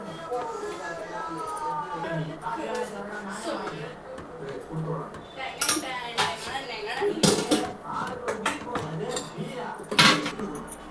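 Ragi kali is stirred in a hot cooking pot, with a spoon scraping and clinking against the metal in irregular strokes, close and fairly loud, under a person talking.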